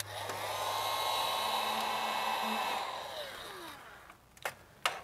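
A heat gun blows a steady airy whoosh for about three seconds while shrinking waterproof heat-shrink tubing over wiring on a Nissan truck, then winds down, followed by a couple of short clicks and handling noises.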